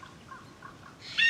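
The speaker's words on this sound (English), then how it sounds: "if you hear the cheeseburger bird, that's it" In the DayZ video game, a bird call known as the cheeseburger bird gives a few soft, repeated chirps, faint and distant, before a brighter burst of sound at the end.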